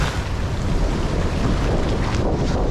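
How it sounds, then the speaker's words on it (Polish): Loud, continuous rushing water and wind noise buffet the microphone, a dense wash of surf with no clear breaks. "bo cały czas mnie zalewa fala. O, tak jak teraz na przykład."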